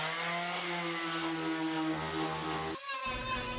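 A power sander gives a loud, steady mechanical whir with a high buzzing drone, running continuously, then briefly cutting and restarting near the end, close to the microphone.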